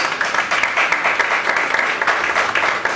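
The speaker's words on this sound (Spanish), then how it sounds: "Vamos a darle un aplauso al Rey de Reyes." A church congregation breaks into brisk, steady applause during a sermon, many hands clapping together at close range with no speech over it.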